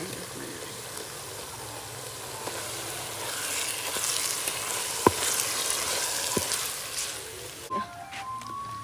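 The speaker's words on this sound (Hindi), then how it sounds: "तो लहसुन अदरक को हमने 30 सेकंड तक फ्राई कर लिया।" Steady hissing sizzle of garlic and ginger frying in hot oil in a kadai, with occasional faint clinks and stirring, fairly soft and continuous.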